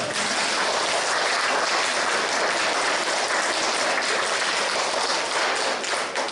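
A large crowd at an Independence Day event applauds a school choir, dense, sustained and loud clapping that fills the room and runs without a break.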